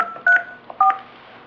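Two short DTMF keypad tones sound as a voicemail password is entered on a business phone system, close and clear, separated by about half a second of quiet.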